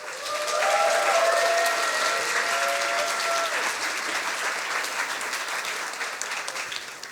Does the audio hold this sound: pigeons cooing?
no